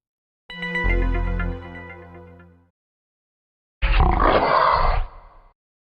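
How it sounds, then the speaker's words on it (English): A tiger growls in two separate bursts, a low rumbling grunt followed after a pause by a rougher roar, loud and close with silence between. "It's a tiger growling."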